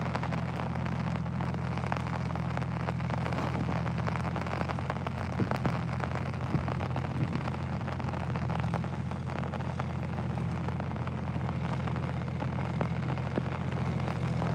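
Heavy rain pours on a Telangana paddy field during transplanting, a dense, constant hiss of drops under a steady low engine drone, with no talk.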